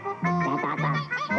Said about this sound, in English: 2 families of ducks were fighting over a slippery eel.